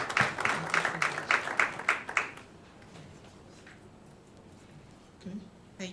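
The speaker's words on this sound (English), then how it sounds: "could you all please give a round of applause to Mr. Ni Yusuf?" An audience at a formal gathering claps in a brief burst that quickly fades, leaving room murmur and a few scattered claps.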